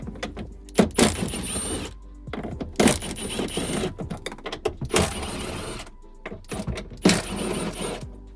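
Rear seat bolts in a 240sx S13 are zapped out with a 10mm socket on a power driver, giving repeated short, loud, close whirring bursts. Some bursts are mixed with clanking, and there are gaps between them.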